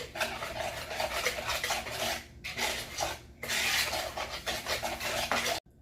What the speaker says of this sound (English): Now that we have whisked for 2 minutes